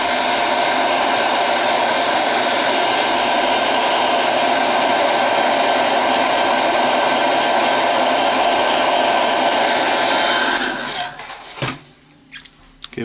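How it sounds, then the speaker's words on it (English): Hair dryer blowing on freshly applied paint, a loud steady whooshing hum running continuously for about ten seconds before it switches off, followed by brief handling clatter. "just to help out the drying process, hair dryer."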